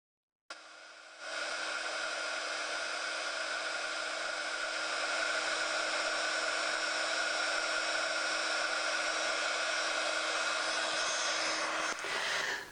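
A heat tool blows a steady, loud whirring hiss over clear embossing powder on stamped butterflies, starting abruptly and running unbroken for about twelve seconds before cutting off, with no talking.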